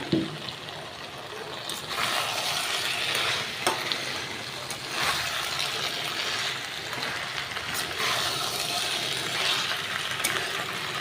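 Soybean chunks fry and get stirred in a pan, a steady close sizzle running throughout with repeated scraping stirs at intervals, and no talk over it.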